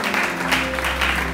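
A church congregation claps and cheers continuously for the word of the Lord, a dense steady burst of applause over a low hum.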